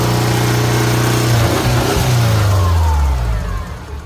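A newly installed car engine runs close by while it is left running to see whether the cooling fans come on, a steady loud hum with a brief rev that swells and then settles back down.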